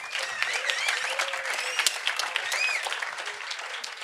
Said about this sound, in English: Please a big applause for him as well.